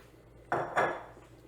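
A spoon clanks twice against a pot of pinto beans with added ham steak and bacon, two close, solid knocks over a quiet kitchen background.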